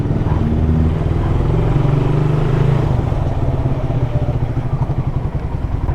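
A motorcycle idles close by at a fast-food drive-thru window, its loud, steady, rapid putter continuing throughout with slight unevenness toward the end.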